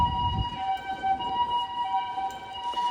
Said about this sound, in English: so there's another ambulance coming from that way